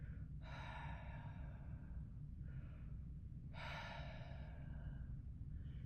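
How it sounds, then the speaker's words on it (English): Two slow ujjayi yoga breaths drawn through a constricted throat with the mouth closed, each a soft, airy hiss lasting about a second, close and quiet over a low background rumble, with a fainter breath between them. "the ujjayi breath, it's similar to that, except with our mouth closed"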